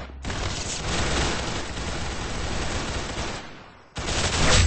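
Sustained rapid gunfire from the online shooter game Arsenal, a dense automatic burst running for several seconds, dropping briefly, then resuming loud and close.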